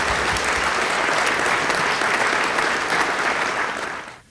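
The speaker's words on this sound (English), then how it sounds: "let's give these folks a round of applause for completing their 5 years of service" A civic crowd at a city address claps for commission members finishing five years of service, a loud, dense wash of applause that stays even and then fades out quickly at the end.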